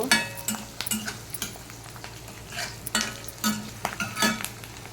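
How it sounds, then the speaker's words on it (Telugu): Curry leaves fry alongside okra in a pan, an even low sizzle punctuated by repeated clinks and scrapes of a spoon stirring against the metal, close by and without speech. "ఇదిగోండి కరివేపాకు కూడా వేసుకుంటున్నాను"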